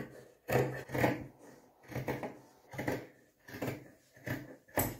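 Scissors cut through layered fabric pieces for a folding shopping bag, making a series of close, rhythmic rasping snips that come in short bursts about every second.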